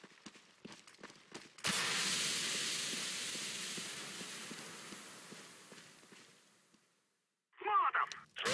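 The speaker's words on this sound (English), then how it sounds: "Laying down smoke." A smoke grenade in CS:GO on the Cache map bursts into a loud, sustained hiss lasting about five seconds before fading out, with scattered clicks and game sounds before it and a short sharper burst at the end.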